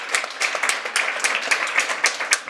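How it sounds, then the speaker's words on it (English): Applause from an audience at an innovation event honouring a group of pitchers, a brief burst of fairly light, uneven clapping heard alone at moderate distance. "offer all of the pitchers another round of applause"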